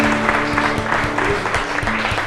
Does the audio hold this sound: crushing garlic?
no